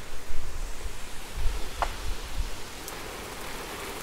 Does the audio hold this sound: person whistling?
no